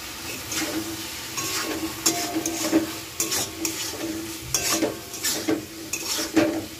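A thick masala seasoned with Maggi spice mix being stir-fried in a pan, with a steady close sizzle under repeated sharp scrapes and clacks of a spatula against the pan.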